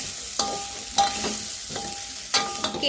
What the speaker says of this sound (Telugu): పచ్చి కొబ్బరి వేసిన తర్వాత రెండు నిమిషాలే వేయించుకోవాలండి